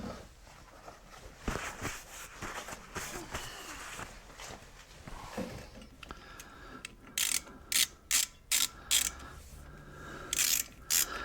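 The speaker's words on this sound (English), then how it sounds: "this is a composite ratchet Harbor Freight made by Pittsburgh" A Pittsburgh composite ratchet from Harbor Freight clicks through a series of sharp, evenly spaced ratcheting bursts in the second half, close and loud, with mechanical handling noise before it during brake work on a 2011 Impala.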